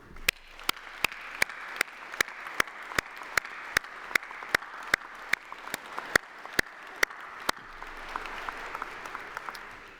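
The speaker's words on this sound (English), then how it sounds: "join me in a massive round of applause for all those special people" An audience gives a sustained round of applause at a UCLan university graduation ceremony, with steady dense clapping and a regular run of sharp clicks on top. It eases off slightly near the end.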